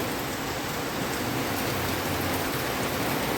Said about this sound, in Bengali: আর এদিকে প্রচুর বৃষ্টি হইতেছে